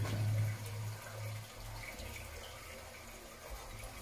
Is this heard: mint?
no